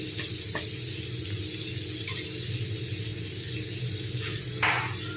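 Sliced ivy gourd fries in a pan with chili powder and coriander powder. A steady, close sizzle runs throughout, with occasional clinks and stirring scrapes on top and no talk.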